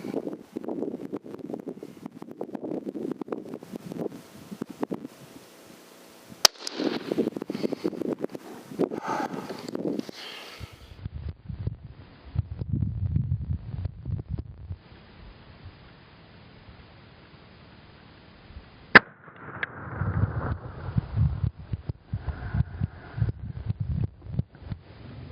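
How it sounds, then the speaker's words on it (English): Two sharp, loud rifle reports from a 22-250 firing Hornady 50 grain bullets at targets 300 yards out, spaced well apart over steady outdoor wind buffeting the microphone. "Shooting at a distance of 300 yards with a 22-250, Hornady 50 grain bullet"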